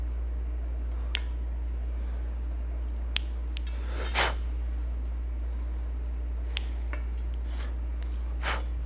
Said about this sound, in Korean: 가위로다가 이렇게 썰어서